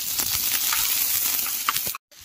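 Chicken, first roasted over a fire, sizzles steadily in a pan at a rainy night campsite in Uttarakhand, a close, continuous frying hiss with small crackles that cuts off abruptly near the end.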